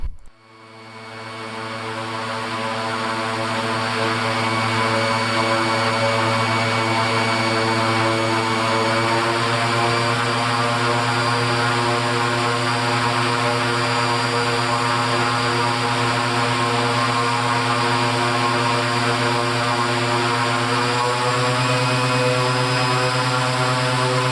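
Raptor prototype aircraft engine idling steadily at about 2,400 RPM, a loud, even droning hum with strong harmonic tones that starts up and holds unchanged, close and without talk.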